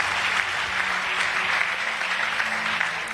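A church congregation applauds at a worship service, a dense, steady wash of clapping from many hands that holds at an even level throughout.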